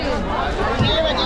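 Crowd bustle at the morning wholesale Malad fish market in Mumbai: dense overlapping chatter and movement close by, a continuous loud hubbub with voices talking throughout.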